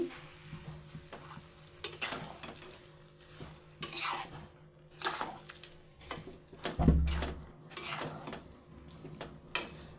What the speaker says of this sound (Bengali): তো আমি এইভাবে এখন ভালো করে নেড়ে চেড়ে নিচ্ছি